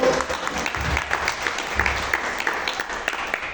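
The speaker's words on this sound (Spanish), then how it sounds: "Dale una ofrenda de palmas a Dios." Enthusiastic applause from a church congregation, many hands clapping at once, fairly close and sustained for several seconds.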